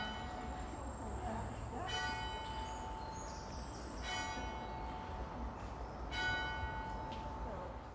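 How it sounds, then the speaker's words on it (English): A monastery bell rings three slow, distinct strokes, each with a long shimmering decay, over faint background hiss. "I also recorded the bell, which is rather nice. Have a quick listen to the bell."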